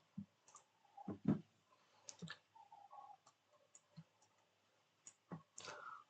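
Computer mouse clicks, a few sharp quiet clicks scattered through otherwise near-silent room tone, with faint small ticks and taps between them.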